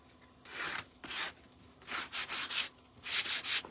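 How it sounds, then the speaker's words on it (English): Sandpaper rubbing on wood in repeated back-and-forth strokes, some short and some longer, close and fairly loud with no talking. "I'm going to take my sandpaper and just kind of give it a bit of a sand"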